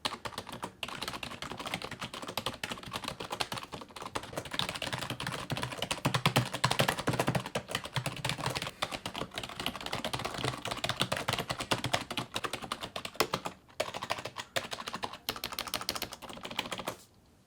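Continuous typing on a Corsair K55 RGB membrane gaming keyboard, soft muffled keystrokes in fast irregular bursts for a long stretch, close and clear with no talking, a few brief pauses near the end.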